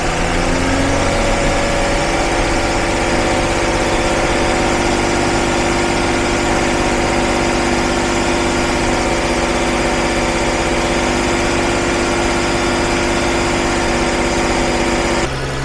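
A BMW engine with a custom engine map idles steadily without an idle regulator, a loud continuous close-up drone with even vibration and no voices.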